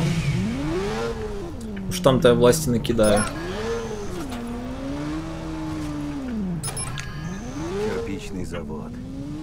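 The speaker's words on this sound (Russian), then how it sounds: "на мотоцикл и поехали." A motorcycle engine in the video game Watch Dogs revs and rises and falls in pitch as the bike rides along, steady under a voice speaking over it.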